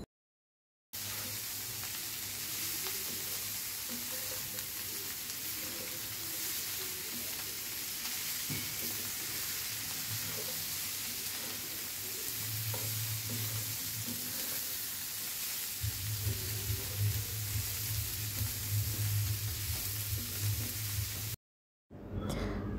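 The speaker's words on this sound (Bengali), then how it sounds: "তো নেড়ে চেড়ে আমি ভাজিটা করে নিয়েছি।" Bitter gourd with onion, turmeric and shrimp stir-frying in a pan, a steady close sizzle running throughout with stirring scrapes, growing louder and denser toward the end, no talk.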